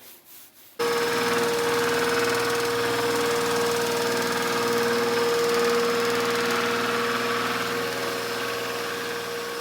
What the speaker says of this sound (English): There's a lot of floor that needs to be sanded here, and he only has this machine for one weekend.